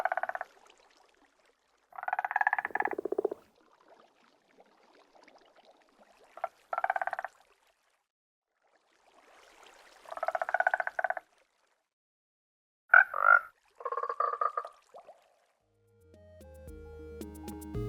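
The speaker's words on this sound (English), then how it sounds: "complete with ambient frogs, ambient water, and spore blossoms" Ambient frog croaking in a Minecraft map art room, separate clusters of croaks in irregular bursts with long silent gaps, joined near the end by a low rumbling tone.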